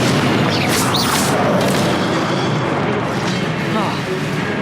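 Confringo blasting spell firing in the Hogwarts Legacy video game on PS4, a loud, dense booming explosion roaring continuously over layered combat effects, with a voice calling out in the mix.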